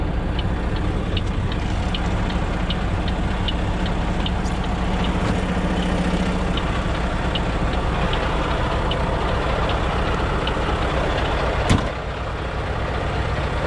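Semi truck engine idling steadily and loud throughout while the rig hooks up to a 2018 trailer, a constant low rumble with faint rhythmic ticking and one brief clank near the end.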